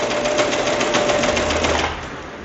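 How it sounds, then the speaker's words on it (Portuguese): A Singer Ultralock serger runs at steady high speed, a loud, continuous motor whir with rapid stitching chatter, close by, easing slightly near the end; no one speaks. "Uma desvantagem que essa máquina da Singer tem, a Ultralock, é que ela é muito barulhenta."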